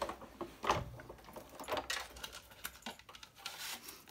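A Sizzix die-cutting machine cuts a paper piece, with a crank turning steadily, ticking and rattling in a dense run of small clicks and rubbing scrapes for several seconds, close and moderately quiet with no talk.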